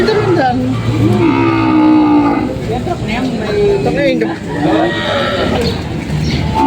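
Water buffalo low and moo close by amid a bustling crowd at a livestock auction market in Lucena, Quezon, with people talking over and between the animal calls.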